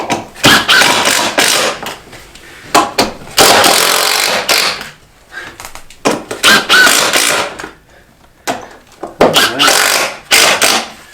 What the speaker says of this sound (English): we're going to go ahead and place a screw in each one of these